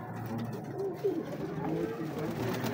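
Low, soft coos from a golden breeder pigeon pair repeat over a steady background murmur, fairly close, with faint voices in the surroundings, in Lahore.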